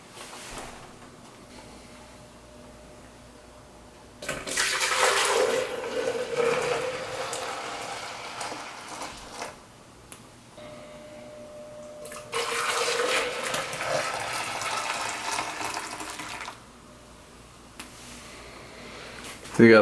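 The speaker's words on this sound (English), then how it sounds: "So now I'm going to portion out the milk. And I have 2 containers that I'm going to split it between." Milk poured from a container into two smaller containers while making homemade fruit-on-the-bottom yogurt, two separate broad rushing pours of several seconds each, the first louder, with a quiet pause between them and no talk.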